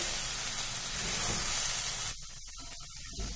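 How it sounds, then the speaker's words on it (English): A steady broad hiss and sizzle of potatoes frying in a pan fills the clip, then turns choppier and uneven in the last second as stirring breaks it up. "Now continue frying, mixing the potatoes."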